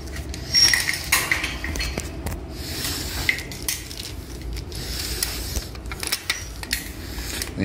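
Metal 20p coins clink and rattle into a shopping trolley's coin lock, with a string of small, close, bright metallic chinks and scrapes over a steady background.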